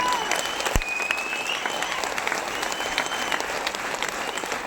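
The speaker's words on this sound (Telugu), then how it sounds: "గట్టిగా కొట్టదు క్లాప్స్ ఇప్పుడు గట్టిగా." An audience claps loudly and steadily through the whole moment, a thick wash of hand claps with a sharp clap standing out near the start and a few voices mixed in.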